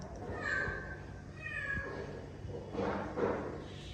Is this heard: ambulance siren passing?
no